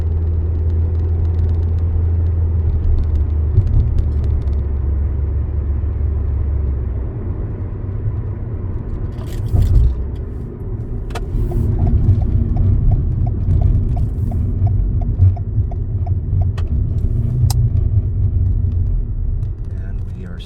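A car cruises through downtown Miami toward the drawbridge over the Miami River: steady, loud low road and engine rumble throughout, with a run of light rhythmic mechanical clicks in the second half.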